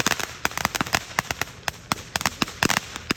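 Fireworks go off at night in a dense, irregular run of sharp crackles and pops. Most bursts are close, with some fainter ones further away, and no talking is heard.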